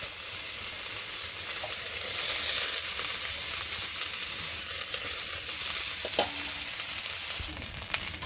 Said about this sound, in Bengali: এদিকে কড়াইয়ের মধ্যে তেল দিয়ে দিচ্ছি সাথে দিয়ে দিচ্ছি পুরন জিরে আর রাঁধুনি তো এখন পেঁয়াজ আর রসুন বাটা দিয়ে দিই